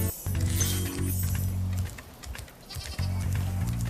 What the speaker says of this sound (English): Go ahead and take out this sheep.